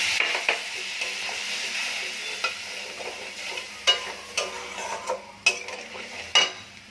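Turmeric, chili, coriander, cumin and a splash of water sizzling in hot oil for a fish curry, a steady close sizzle broken by several sharp clinks and scrapes of a spoon stirring the pan.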